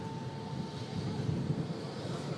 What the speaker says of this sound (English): And there goes the Virgin 350 taxiing into the apron.